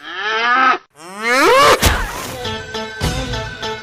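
A local cow at a livestock sale moos loudly and close, one long call, a sharp thwack, then a second drawn-out moo.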